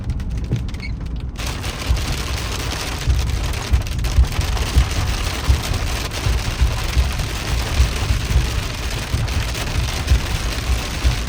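Steady rain patters on a surface, a dense continuous hiss with low rumbling underneath, fairly loud and constant throughout.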